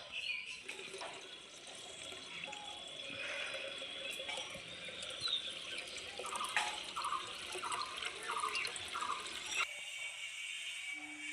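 Water runs and drips steadily while being collected outdoors, a soft continuous trickle with scattered droplets and splashes, fairly faint, ending abruptly near the close.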